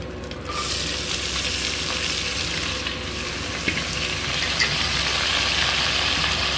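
Spices tempering in hot oil for a mixed vegetable curry, a continuous loud sizzle and crackle close by with a few sharper pops, no voices.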